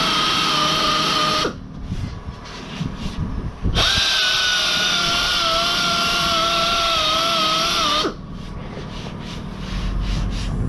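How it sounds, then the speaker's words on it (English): A power sander works car bodywork during a smart repair, a loud steady motor whine that drops in pitch when pressed onto the panel, briefly cuts out, then spins back up at full speed. "Quite easy to make a ridge, especially with a high grit, with a low grit sandpaper and especially a sander."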